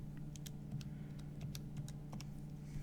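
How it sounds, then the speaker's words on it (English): Quick, light clicks of keys pressed on a calculator while entering an equation, an irregular run of soft taps over a low steady hum, close up with no talking. "I'm going to type in this exact equation"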